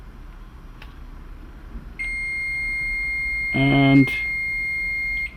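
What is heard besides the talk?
multimeter beeping during diode check on bridge rectifier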